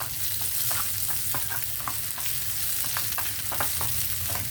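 Ginger and lentils roast in a pan with a loud, continuous sizzle, broken by frequent crackles and the scrape of stirring, close and steady with no talking.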